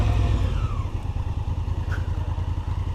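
A 2016 Honda Africa Twin motorcycle rides through a gate on a New Zealand South Island tour, its engine note a steady, close, pulsing drone with a slight lift in revs.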